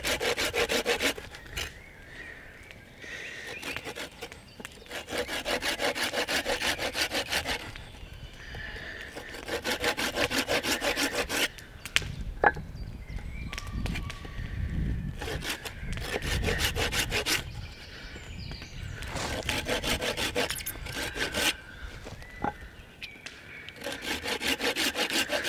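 A Bahco Laplander folding saw cuts through wood while a bushcraft mallet is made, giving loud, close, rhythmic rasping strokes in long steady bursts with brief pauses between them.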